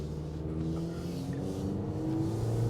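A 2023 Honda HR-V with a continuously variable transmission pulls away from a street, its engine giving a steady, droning hum that holds a near-constant pitch as it climbs. No voices are heard.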